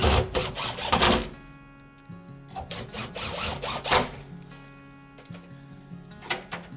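Screws are driven back in to fix a lock cover plate during a swap from a mortice lock to a Euro cylinder lock. Short whirring bursts of a power driver come in several separate runs with quiet gaps between them.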